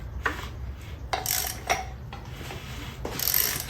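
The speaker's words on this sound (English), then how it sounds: "when we start spinning, you'll hear the tensioner start ratcheting" On a Saab 900 Turbo engine being turned by hand during a rebuild, the timing belt tensioner makes several short mechanical ratcheting clicks in separate bursts, close up, with a faint workshop background.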